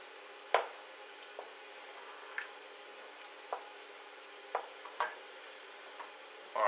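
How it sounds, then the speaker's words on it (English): Macaroni cheese being stirred in a pot, with faint soft squelches and a few scattered clicks and scrapes of the spoon, quiet and close, with no talk. "I'm going to stir it round, try and mix in the macaroni."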